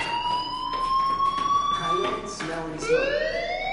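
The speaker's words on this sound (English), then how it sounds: "do you hear that fire alarm?" In the video game Life is Strange, a fire alarm rings with a steady electronic tone that shifts in pitch, over a dense background of game sound.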